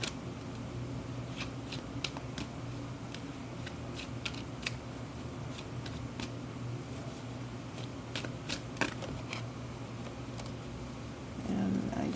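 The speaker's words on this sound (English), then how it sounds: "And I just want you to see me shuffling the cards here." Tarot cards shuffled by hand in quick, irregular bursts of crisp riffling and flicking, close and fairly quiet, with no talking.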